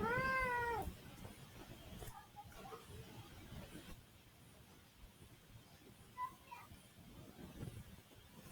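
A kitten gives one clear, fairly loud meow, followed by fainter chirping mews later on, heard over quiet room noise during an online maths class.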